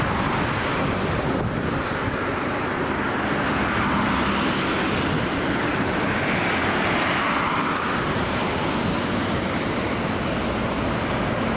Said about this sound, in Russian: С такой скоростью машины идут.